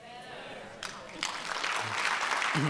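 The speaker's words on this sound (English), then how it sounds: "let's give a round of applause for the input" Audience applause at a conference builds and fills the room, broad clapping swelling in the second half while a voice carries over it.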